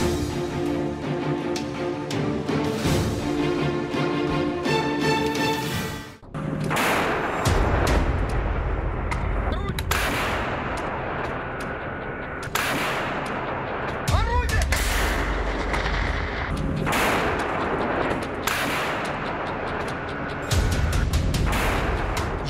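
Heavy booming blasts and rumbling detonations from the Russia-Ukraine war, loud and continuous, with a sharp break partway through before the roaring resumes.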